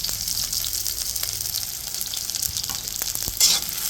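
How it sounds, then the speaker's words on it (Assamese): Onions sizzle steadily in a pan while pork is being cooked, a close, continuous frying hiss with a few soft stirring clicks and a brief louder crackle near the end, with no talking. "এতিয়া মই আলুখিনি নামাই পিনে ইয়াতে পিঁয়াজ দিওঁ, পিঁয়াজখিনি ভাজি লওঁ।"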